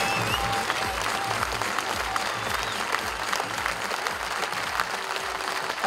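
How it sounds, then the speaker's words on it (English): Club supporters at a gathering applaud steadily throughout, a dense, even wash of clapping from a crowd, close and continuous without a break. "can we just have one round of applause for 2020, the guys that have put their money in"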